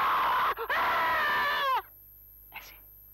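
A voice imitates a pig's squeal: one long, loud, shrill wail with a brief catch near the start, then silence and a short squeak.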